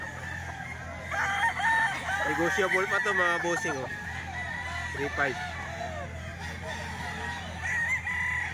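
Chickens at a tiangge market stall in Grotto cluck and a rooster crows several times in short bursts, near and fairly loud, while a vendor talks over them.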